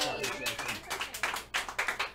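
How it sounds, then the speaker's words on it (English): An audience applauds a helper with a steady run of hand claps, fairly close and filling the whole stretch, with some voices mixed in. "Everybody give her a big hand clap for helping out."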